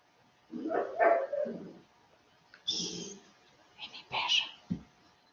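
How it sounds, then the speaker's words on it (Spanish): A small dog barks a few short, sharp times in an indoor room at moderate volume, the barks coming in separate bursts with quiet gaps between them and no talk over them. "Mi perrita se le ocurre ladrar de vez en cuando"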